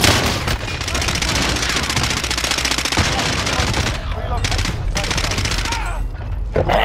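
Pistol shots crack in fast succession in the Warzone video game, forming a loud, almost unbroken volley that thins into a few separate bursts near the end.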